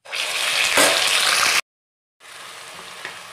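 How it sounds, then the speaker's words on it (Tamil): Ground onion paste dropped into hot oil for rajma curry, a loud sharp burst of sizzling that hisses on, briefly cuts to silence, then resumes as a quieter steady fry. "வெங்காயம் சேர்த்துட்டு நல்லா கிளறி விட்டுக்கலாங்க"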